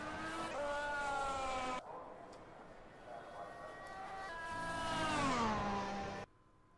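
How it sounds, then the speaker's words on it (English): Race cars in the rFactor F1 2017 racing game at the British Grand Prix, with high-pitched engine whine rising and falling as they run timed laps and pass by, sometimes loud and sometimes fading, alone with no talk. "So as we get ready to for these cars to start their time laps, we have Kian just about to cross the start"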